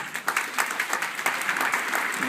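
An audience applauds at an autism conference in France, a brief loud burst of steady clapping from a large crowd in a hall.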